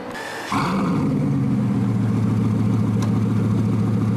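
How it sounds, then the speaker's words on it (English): A supercar engine with a Mansory exhaust system fires up and settles into a deep, throaty idle with a rumbling exhaust burble, steady and close. "It sounds amazing with the Mansory exhaust system"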